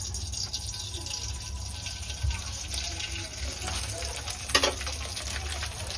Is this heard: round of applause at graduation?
no